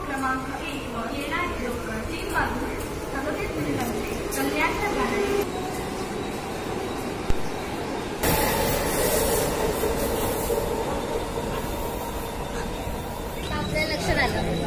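A Mumbai local train travelling via Dadar, heard from inside the carriage as a steady, loud rumble and rushing hiss, with a brief knock partway through and the noise growing rougher and louder in the latter half.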